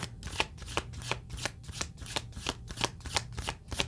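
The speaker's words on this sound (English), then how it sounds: "You didn't get any cards in 2 shuffles." A deck of tarot cards is shuffled close by in a quick, regular run of crisp riffling bursts, about ten in four seconds, quiet and without talking.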